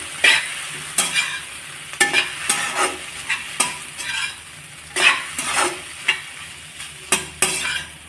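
Chapati noodles are stirred and mixed in a hot pan. A soft constant sizzle runs beneath regular, close scraping strokes of a spatula that repeat roughly every half second to second.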